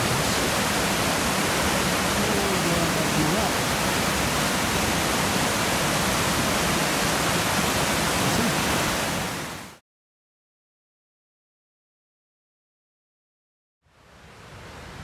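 A river rushing across a backcountry crossing on a lakeshore hiking trail near Lake Chelan, a loud, steady broadband roar that cuts out abruptly to silence, then returns near the end.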